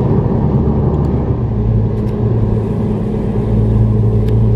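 Interior road noise of a car on a 90-minute drive to Disney World, a steady low engine rumble and tyre drone that stays constant, loud and close throughout.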